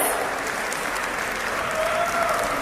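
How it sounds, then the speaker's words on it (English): Thunderous audience applause fills a conference hall at the opening of a resort event, a dense, steady wash of clapping held at full strength for a few seconds with no pauses. "can I get you all to get this started in a beautiful way with some thunderous applause"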